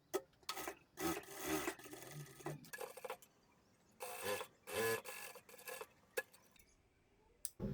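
A sewing machine stitches a folded seam on a ladies' pant in short rapid bursts separated by brief pauses, its close, quiet whirring clatter starting and stopping.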